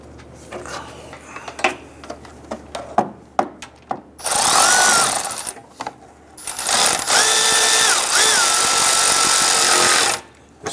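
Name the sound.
power tool tightening bolts on radiator and AC condenser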